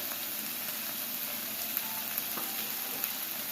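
Vegetables and green onion sautéing in a pan for a veg lasagna, giving a steady, soft sizzle with faint occasional stirring clicks throughout.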